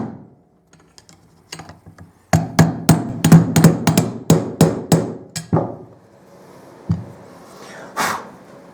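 Hammer blows drive a screwdriver in as a wedge on a motorcycle headstock bearing, about a dozen sharp metallic strikes in a quick irregular run, close and loud, with a few lighter taps before and after.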